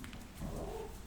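A dog named Oscar barks once or twice at moderate distance, a short muffled yap rising briefly over low room noise, with no voices over it.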